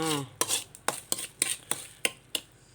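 A utensil scrapes and stirs sugar in a pan as it caramelizes for an old-style Thai palo braise, about eight sharp rhythmic scrapes close up with a faint sizzle beneath.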